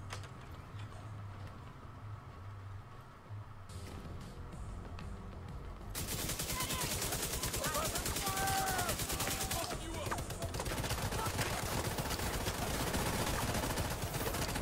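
Enemy gunfire in The Division 2, a rapid stream of automatic shots and crackling bursts that swells after a quieter start and keeps going, loud and continuous, with someone talking at times.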